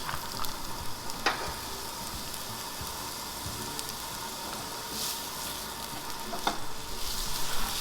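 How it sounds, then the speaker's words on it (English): Garlic and onions sizzle steadily in hot oil in a pan, a continuous frying crackle with a couple of sharper stirring scrapes, close and alone with no talk. "then you saute garlic, you have onions,"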